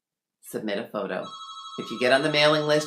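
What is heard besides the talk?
phone ringing in a home office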